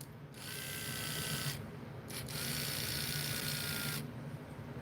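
An HO scale AFX Mega G+ slot car runs on its track nearby with a steady, close, high-pitched motor whine that cuts out briefly twice before resuming, then stops near the end.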